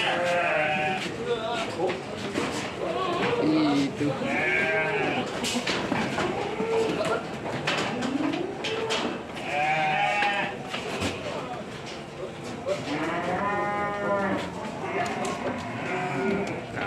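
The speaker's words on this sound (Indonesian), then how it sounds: "Kambing, kambingnya banyak." Many goats held for the Eid sacrifice at a farm in Sidoarjo bleat repeatedly, loud and close, with overlapping calls throughout while people talk among them.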